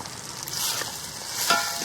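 Chopped onions with a pinch of salt frying in a pan for a Kerala fish-head curry, a steady close sizzle with a soft stirring scrape and a slight swell near the end, no voices.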